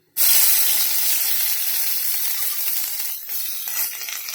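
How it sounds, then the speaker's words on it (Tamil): Onions hit hot oil in a pan for beans poriyal, setting off a sudden loud, bright sizzle that begins sharply and then hisses on steadily, easing only slightly. "இப்போது வெங்காயம் போட்டுடலாம்."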